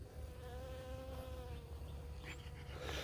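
Honeybees buzzing close by, a steady droning hum with no break and no talking over it.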